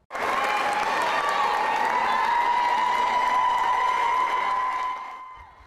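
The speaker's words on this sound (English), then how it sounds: "A round of applause greeted State Representative Jennifer Gross inside the State House" Sustained applause from a crowd inside a state house legislative chamber, loud and steady for about five seconds before tapering off.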